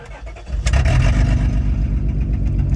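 A 2004 Honda Pilot with no exhaust system starts and idles, a loud, rough, close engine rumble with a deep pulsing low end that jumps up as it catches and then holds steady.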